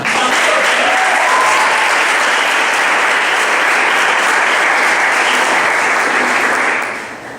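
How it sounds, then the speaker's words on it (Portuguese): During a church service, a congregation claps in a dense, sustained round of applause that holds steady for several seconds before tapering off at the end. "mais uma salva de palmas"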